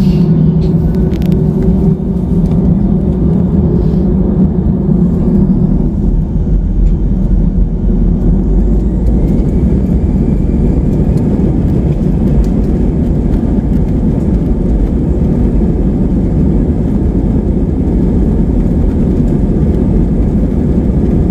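An airplane accelerating down the runway for takeoff, heard from inside the cabin as a loud, steady engine rumble and roar that persists throughout, with no talking.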